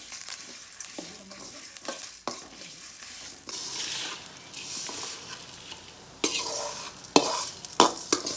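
Dry spices, lentils and dried chillies being stirred and roasted in a pan, with close scraping and rattling strokes over a soft sizzling hiss, the stirring louder toward the end.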